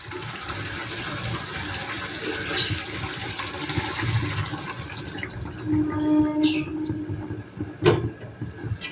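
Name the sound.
water added to chicken curry in pan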